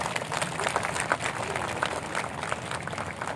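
An audience at a theatre show on drug abuse and communal harmony bursts into dense, steady applause, with many hands clapping at once at moderate volume for a few seconds.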